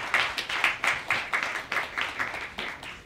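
Audience applause welcomes award winners at a media art festival ceremony, a small group clapping in a loose, fairly even rhythm with distinct individual claps, moderately close.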